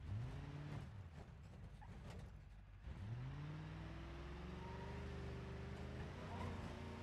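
A car engine's crankshaft spinning in the driving game BeamNG.drive, with a low mechanical drone and rising, sweeping whine as it speeds up, plus creaks and rattles close by.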